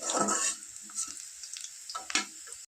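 Four sliced onions fry in oil in a pan for a Bengali fish curry, crackling steadily up close while a utensil stirs and scrapes them in short bursts, with no voices.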